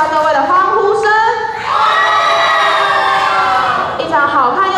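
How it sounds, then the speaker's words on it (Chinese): Excited high-pitched cheering and shouting from the audience at a children's tea party show rises and falls in waves, with children's voices prominent and a swell of whooping in the middle. "一场精彩的茶会需要各位的欢呼声"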